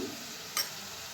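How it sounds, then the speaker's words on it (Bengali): Spice masala with cumin powder and salt being sautéed in a pan, a faint continuous hiss of frying with a single brief scrape of the spoon midway. "এবার মশলাটা আমি খুব ভালো করে কষিয়ে নেব"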